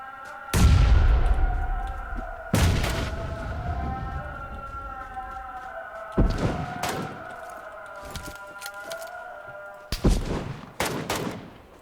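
Gunfire in PUBG Lite: several loud, sharp shots spaced a few seconds apart, some in quick pairs, each with a ringing tail, over a steady droning tone.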